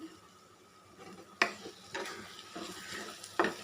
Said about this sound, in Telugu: ఇవన్నీ కూడా చక్కగా ఆయిల్లో వేగిపోయినాయి కదా